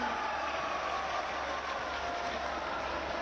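A crowd at a ceremony marking the Kakori rail action anniversary claps continuously in dense, even applause that holds at a steady level throughout, with no talking on top.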